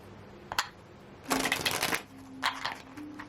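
Tarot cards shuffled on a shuffling coaster: a quick riffle near the start, then a longer burst of close, crisp card riffling, and a final shorter flurry, with quiet gaps between.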